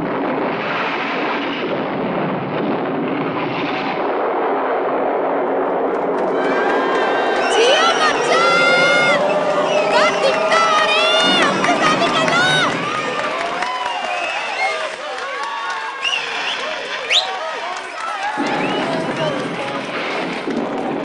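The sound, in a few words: audience clapping and whistling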